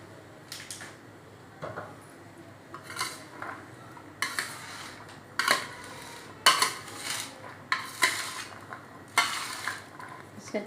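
A spoon stirring and scraping chana chaat with salt and chilli in a bowl, a series of close, sharp clinks and scrapes in an irregular rhythm with short pauses between strokes.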